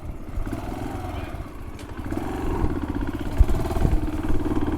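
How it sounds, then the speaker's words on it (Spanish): A motorcycle rides along forest trails toward a humid woodland area, its engine a steady close rumble that gradually grows louder, with occasional clatter and a voice speaking over it. "David Lacut, me llevó en moto por unos senderos que conducen a una zona de bosque húmedo"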